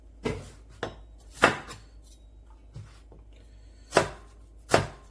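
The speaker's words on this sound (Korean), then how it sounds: "일단은 체에 썰어 주실게요" A knife chops onion into thin strips on a cutting board for perilla leaf kimchi, with about six crisp, irregularly spaced strikes against a quiet background.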